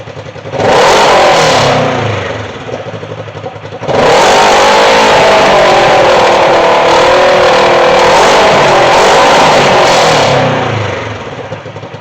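Polaris RZR 1000 side-by-side fitted with a Magnum slip-on exhaust, loudly revved twice: a short blip, a brief dip, then a long sustained rev that holds high before easing off, close and with no talking.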